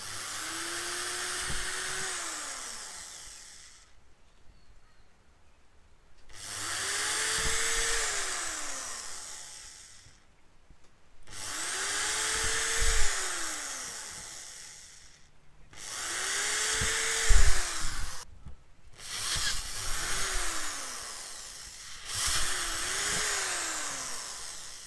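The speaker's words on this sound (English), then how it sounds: "I'll start off by drilling four pilot holes with the 2mm drill bit and then finish them off with a 6mm drill bit" A power drill bores pilot holes into a pipe, first with a 2mm bit and then a 6mm bit, in about six close, loud bursts, each whining up in pitch and then easing off between holes.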